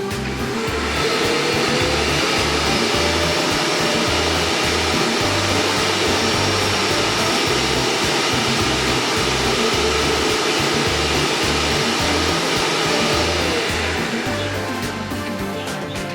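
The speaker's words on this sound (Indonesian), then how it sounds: "Dust collection begins." An Umeda Tomo R8 robot vacuum cleaner's docking station runs its automatic dust collection, giving off a steady, loud whooshing suction roar that holds for about fifteen seconds with a low pulsing motor beneath, no talk.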